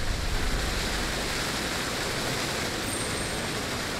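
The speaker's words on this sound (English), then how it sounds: "It's coming to the waterfall." Steady broadband rush of a waterfall in the horror video game Fatal Frame: Maiden of Black Water, a continuous even roar of falling water with no breaks, moderately loud and alone.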